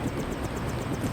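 A helicopter in the Deus Ex video game, a brief, steady whirring drone with a rhythmic rotor pulse, fairly close and alone.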